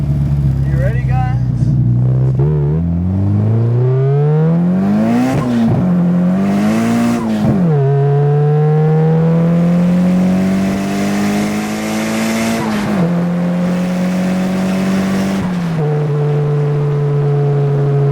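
A 1996 Nissan 200sx with a GTIR engine swap and 60-1 Garrett turbo revs hard through the gears, engine pitch climbing and dropping at each shift, loud and close, with voices in the car talking over it.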